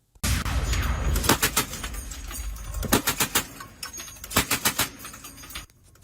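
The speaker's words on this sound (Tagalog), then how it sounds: "Malalakas na putok mula sa 50 caliber machine gun" Loud bursts of .50 caliber heavy machine gun fire, rapid reports repeating in several clusters with echoing cracks between them.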